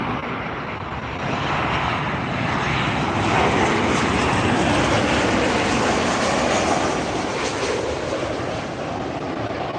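A loud, steady roar of an Emirates A380 airliner's engines at LAX, a broad continuous rumble that swells slightly and holds throughout, with no voices.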